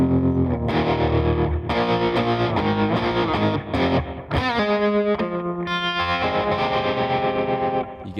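An electric guitar plays a series of sustained chords with a tremolo effect, loud and full, each ringing out before the next one is struck.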